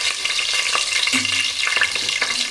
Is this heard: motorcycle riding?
no